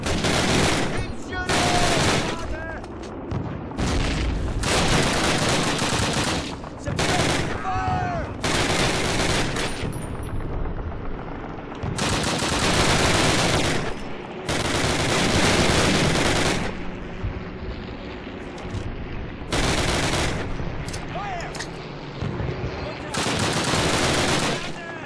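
Soldiers firing in Call of Duty: loud, close bursts of automatic gunfire in repeated volleys separated by short pauses, with faint voices underneath.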